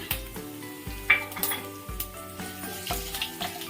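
Cumin seeds and urad dal sizzle in hot oil in a pan, a steady crackling fry broken by several sharp metallic clinks of a spoon against the vessel, with no voices.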